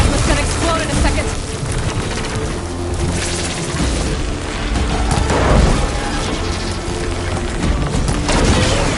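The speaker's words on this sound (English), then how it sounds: "Plasma's gonna explode in a second." A plasma explosion in the video game Horizon Forbidden West: a dense, loud, sustained rumbling blast with broadband crackle filling the whole stretch, swelling slightly midway and staying heavy to the end.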